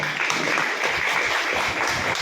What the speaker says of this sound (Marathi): आज मी तुम्हाला सांगतोय स्वतःसाठी एका जोरदार टाळ्या वाजवा